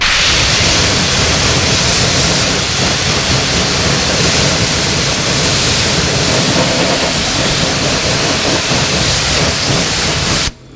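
Water spray rinsing a car after an iron fallout remover treatment, a steady loud broadband hiss running continuously for about ten seconds before cutting off abruptly at the end.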